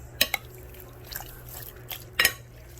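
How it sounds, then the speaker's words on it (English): Vinegar and brown sugar sauce being stirred in a dish after microwaving, heard as a few quiet, sharp clinks of a utensil against the dish with soft liquid sloshing between them, close and isolated. "Now we remove and we're going to stir."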